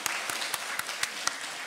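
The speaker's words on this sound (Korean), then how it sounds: "청년부한테도 감사의 박수 하겠습니다." Scattered, slow claps from a church congregation at a Korean Sunday service, thanking the youth group; about seven distinct hand claps over a soft room hiss, fairly faint and evenly spaced.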